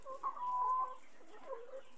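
Chickens in a four-tier H-type poultry cage make soft clucks and one brief drawn-out call, faint and fairly close against a quiet background with no talking.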